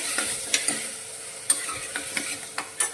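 Scattered clinks and scrapes of a spoon stirring chopped green cowpeas in a pan, with a faint steady sizzle underneath.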